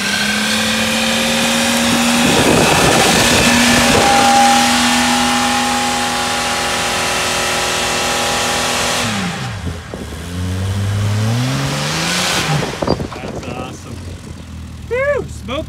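A cheap 4x4 truck's engine revs hard and holds high with its wheels spinning, then drops and surges again in rising, falling pitch sweeps, loud and close, with people talking at times.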